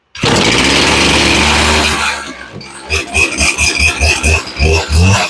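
A Poulan Pro chainsaw on partial choke fires up with a loud, buzzy roar, drops briefly, then sputters and pulses in an uneven, rapid rhythm as the small two-stroke engine struggles to stay running.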